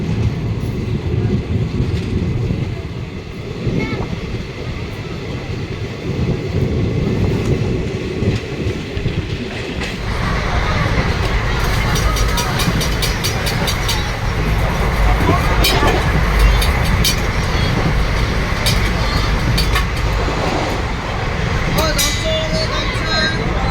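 Haldibari Tri-Weekly Intercity Express runs near New Jalpaiguri, heard from a second seating coach as a steady rumble that grows louder midway, with rhythmic clickety-clack over the rails and people talking inside the coach.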